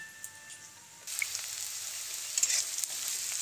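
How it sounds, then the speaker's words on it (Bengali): Onions frying in a pan at home, browning in hot oil, give a soft hiss that jumps to a steady, louder sizzle about a second in, with a few crackles and stirring sounds. "পেঁয়াজগুলো বাদামি বাদামি করে ভেজে নেব আমি"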